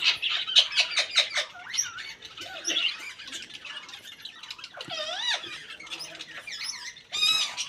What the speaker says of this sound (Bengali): আর এই যে গদ্রি পাখি, অনেকগুলো গদ্রি পাখি আছে দেখো।